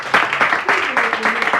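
Brief audience applause at a comedy club, choppy bursts of clapping mixed with voices and some cheering from the crowd.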